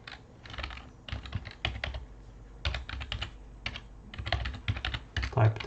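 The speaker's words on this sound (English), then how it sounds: "type the file name" A file name is typed on a computer keyboard in quick bursts of close, crisp key clicks, several short clusters with brief pauses between them, fairly quiet and without speech over it.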